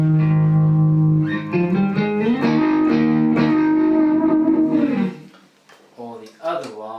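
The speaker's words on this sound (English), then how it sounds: "it's the Flint by Strymon for the Roodis part, and like a little bit of reverb just to help it bed into the mix" Electric guitar played through a Strymon Flint tremolo and reverb pedal for a session part, giving sustained, pulsing chords with a light reverb tail that fades, then a few softer plucked notes; loud and alone without talk.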